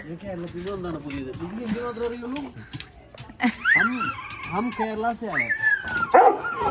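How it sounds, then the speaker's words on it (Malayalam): Several dogs bark, yip and whimper on a morning walk in Uttar Pradesh, the bursts close and uneven, mixed in with people talking and a few bird calls. "ഇവിടുത്തെ ഡോഗ്സിനെ കാണാൻ വന്നേക്കാണ്"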